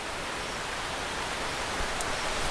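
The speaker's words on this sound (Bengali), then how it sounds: "ভিডিও বানাতে বানাতে দেখুন কত মুসলধারে বৃষ্টি চলে এসেছে" A heavy torrential downpour pours down as a dense, even, steady hiss with no letup and no voices.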